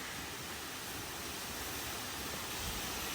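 Waterfall along a hiking trail in Bhutan, a steady dense rushing roar of falling water filling the whole clip without pause.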